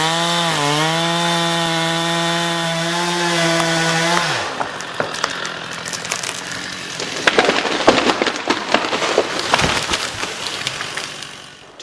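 Chainsaw making the back cut to fell a leaning, partly rotten tree: the engine first holds a loud steady drone, then bogs down as the chain bites into wood, giving way to rough crackling and snapping.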